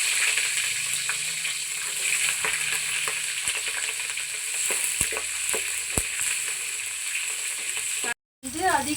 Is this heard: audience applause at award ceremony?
no